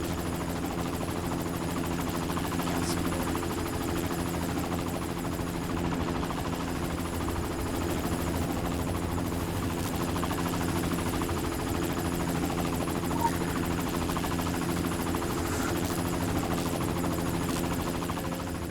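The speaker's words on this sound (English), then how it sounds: "they have a lot of helicopters, and they're, like, constantly going back and forth over the island" Helicopters fly back and forth over an island in the online game Secret World Legends, a steady droning rotor and engine hum holding constant throughout, moderately faint with no talk.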